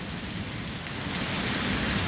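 Heavy rain pours down in Guajará-Mirim, Rondônia, during an October storm, a dense, steady hiss of drops that swells slightly louder partway through, with no voices.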